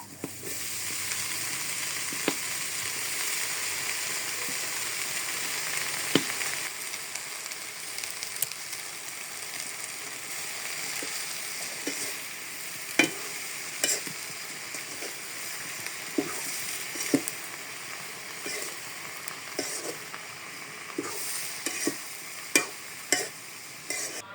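Garlic and green chilies frying in hot oil in a pan, a long steady hiss of sizzling with scattered crackles and occasional utensil clicks growing busier toward the end, no one talking.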